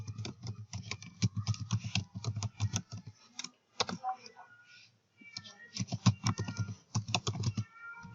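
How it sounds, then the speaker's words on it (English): Rapid clicking of keys on a computer keyboard as an email address is entered, near and fairly loud in bursts with a brief pause midway; a little faint talk around it. "Now to sign in, you type in your email address."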